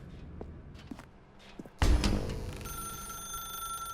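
A telephone rings in The Stanley Parable: Ultra Deluxe video game, a sudden loud ring that sustains as a steady electronic tone after a few quiet footsteps.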